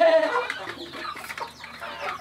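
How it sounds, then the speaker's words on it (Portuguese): A rooster on a rural smallholding clucks in a busy burst of fowl calls, close and fairly loud, settling into softer scattered clucks with no talk over it. "Tem um galo aqui que a gente salvou ele com o próprio sangue, Cícero."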